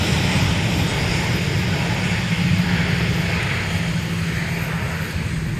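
Large airliners such as a 747 taxiing at MSP airport about 300 feet away, a steady, loud low engine rumble and whine that holds evenly throughout without breaks.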